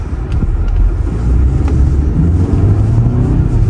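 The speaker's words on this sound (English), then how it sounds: "we're going to get a quick little acceleration test." A 2023 BMW X3 pulls away at half throttle, its engine giving a steady low rumble heard from inside the cabin, mixed with road and wind noise, loud and continuous.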